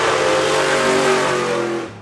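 A stadium truck at the Goodwood Festival of Speed revs its engine hard and steadily, a loud, close engine note that holds for about two seconds and then tails off.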